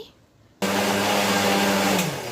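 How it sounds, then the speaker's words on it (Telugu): A mixer grinder starts abruptly after a brief quiet moment and runs loud and steady, whirring and rattling as it grinds chilli and coriander spices. "ఇప్పుడైతే మిక్సీకి వేసుకునేసా నేను"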